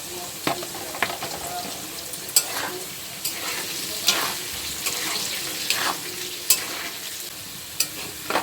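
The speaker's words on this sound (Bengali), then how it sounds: "হলুদ নুন দিয়ে ভেজে নেব আলুটাও।" Potatoes sizzle steadily in hot oil with turmeric and salt, broken by regular scraping stirs every second or so, close and moderately loud.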